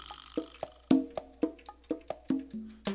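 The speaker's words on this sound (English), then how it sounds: "I like those hand drums." Hand drum sounds from the Expand 2 plugin in Pro Tools play a short, dry rhythmic pattern of about ten sharp strikes with clear pitched tones, recorded cleanly and without any voices.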